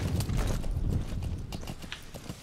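Horse hooves clopping steadily in a quick rhythm in Metal Gear Solid V: The Phantom Pain, close and fairly loud, with a busy background hum underneath.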